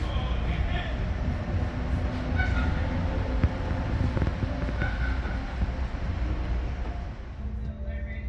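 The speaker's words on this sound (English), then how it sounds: "This train is to Dover, right?" NJ Transit diesel commuter train running toward Dover, a constant loud rumble and rattle of the railcar interior with a faint brief tone, and people talking over it.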